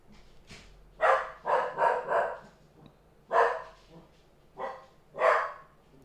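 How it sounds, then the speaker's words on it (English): A dog barks nearby in sharp bursts, about seven in all, some in quick clusters and others spaced apart, with brief quiet between them. "He's barking at something."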